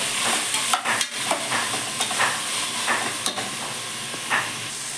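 Carrots and beans stir-fried in oil, a steady close sizzle with repeated scraping and stirring clatters of a utensil in the pan across the whole stretch.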